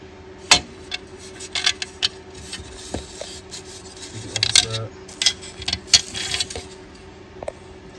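Metal screws for a Ford Mustang II header panel clink and rattle as they are handled, a few sharp taps and small jingles standing out over quiet background, close by with no talking.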